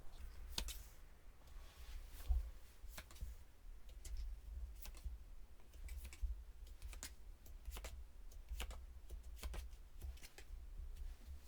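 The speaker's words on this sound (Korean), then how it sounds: "제가 여러분들의 행운의 카드" Tarot cards being shuffled and drawn, a steady run of soft papery flicks and light taps repeating across the whole stretch, close and fairly quiet, with no talking.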